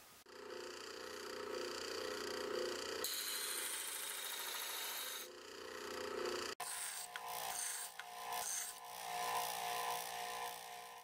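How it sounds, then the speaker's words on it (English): Sander running on a wood lathe knocking down the corners of a cast epoxy and BB bookend blank, a steady rasping, whirring grind throughout with shifts in pitch and texture as the sanding contact changes, no talking. "This sander on the lathe moves quite a bit slower, so I can knock these corners down with a little more control."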